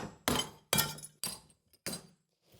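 Broken pottery being smashed into small mosaic pieces: four sharp, loud, close cracks with brittle shattering, separated by short pauses.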